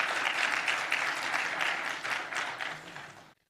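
Audience at a symposium on the Endangered Species Act applauds steadily, a dense round of clapping that fades out near the end.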